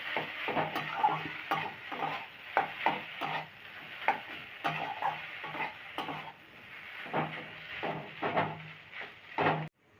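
Egg devil masala with grated potato and chopped green chilli being stirred and fried in a pan, with steady scraping strokes of the spatula over a soft sizzle, close and fairly quiet, with no talking.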